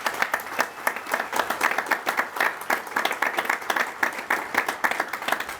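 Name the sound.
audience applause at Memorial Day ceremony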